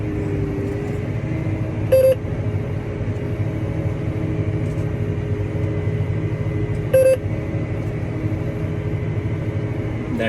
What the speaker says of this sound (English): That beeping there is me riding the line on the box there.